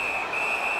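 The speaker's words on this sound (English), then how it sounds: "And freezes play for the whistle" A referee's whistle stopping play in the NHL 19 hockey video game, a single sustained shrill tone held for under a second over faint arena crowd noise.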